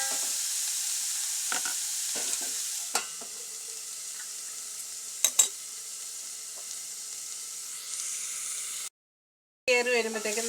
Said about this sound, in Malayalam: ഇതൊന്ന് ഇളക്കി തീ കുറച്ചിട്ട് നമുക്ക് മൂടി വയ്ക്കാം കേട്ടോ.